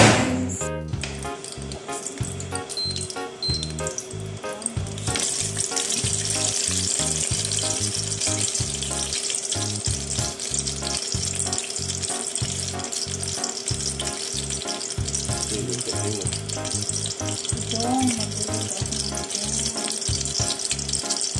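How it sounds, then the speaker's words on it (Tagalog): Sardines frying with udong noodles in a pan, a steady loud sizzle running the whole time after a brief quieter start, with occasional stirring scrapes and no talking. "magluluto na lang ako ng sardinas na may udong"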